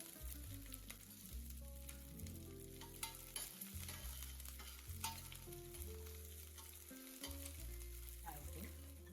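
Curry leaves, green chilies and chana dal frying in hot oil, a steady close sizzle running throughout, with music playing over it.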